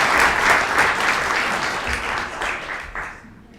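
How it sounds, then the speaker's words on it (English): A seated audience at a youth service awards ceremony claps for the nominees. The applause is steady and moderately loud and fades out near the end. "we have a round of applause for all of the nominees for middle school?"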